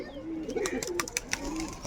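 Pet pigeons coo softly up close in a short series of low throaty calls, with faint chirps and rustling around them.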